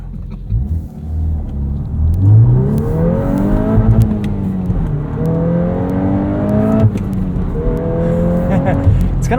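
2023 Volkswagen Golf R manual, 20th Anniversary Edition, accelerating in drift mode: the engine climbs in pitch through several gear pulls with brief dips at shifts, loud inside the cabin, with people talking over it.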